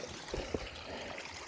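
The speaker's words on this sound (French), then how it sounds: "Un petit ruisseau." A small stream flowing beside a gravel road on a bike ride, a steady soft wash of water with a couple of brief splashy bursts, fairly near and continuous.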